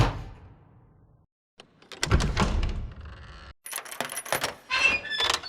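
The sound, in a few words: historical door sound effects from Strata collection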